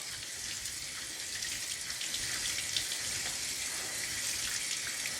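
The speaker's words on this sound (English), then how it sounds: "I take a strainer, I put them in there, I put cold water, and you got to let them run through cold water for a while." Cold tap water streams over food in a kitchen strainer, a steady hissing splash at low level, continuous and unbroken for five seconds with no talking.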